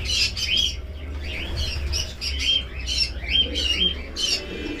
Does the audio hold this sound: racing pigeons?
yes